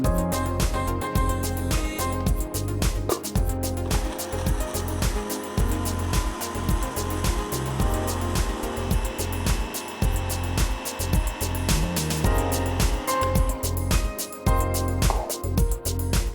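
A blender runs loud and continuous, whirring as it purées figs for fig ice cream, its motor pitch wavering as the contents churn; no one talks over it.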